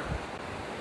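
Surf waves at Pantai Baron beach in Yogyakarta make a steady, broad roar of crashing water mixed with wind rumble on the microphone, with no speech.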